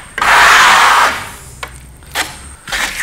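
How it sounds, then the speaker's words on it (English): A steel trowel drags across FirmoLux Piatto plaster in one long, loud smoothing stroke, followed by a few shorter, quieter scrapes and taps of the blade on the wall surface. "So as we trowel, we go back into the material and we keep it consistently smooth."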